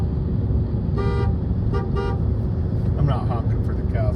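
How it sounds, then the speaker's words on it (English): A car horn honks twice in short bursts, then a few quicker toots follow over a steady engine rumble inside the vehicle, driving past cows near Washoe Lake. "I'm not honking for the cows. I'm honking for my dad."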